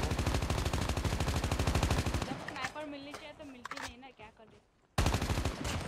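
Rapid automatic gunfire rattles in dense bursts in the mobile shooter Call of Duty Mobile, loud and close, breaking off into a quieter stretch with scattered shots and someone talking before another heavy burst resumes.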